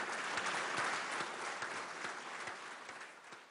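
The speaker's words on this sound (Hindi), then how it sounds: "कई मुश्किल और पेचीदा मरहलों के बाद भारतीय खलाई साइंसदानों ने मरीख मिशन की कामयाबी का ऐलान तालियां बजाकर किया।" Indian space scientists applauding the success of the Mars mission in a control room, sustained dense clapping from a large group, loud and even throughout with no voices over it.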